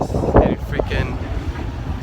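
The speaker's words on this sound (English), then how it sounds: "It's so windy." Strong gusts buffet the microphone outdoors at a busy car meet, a loud low rumble that runs the whole time with brief bursts of voices over it.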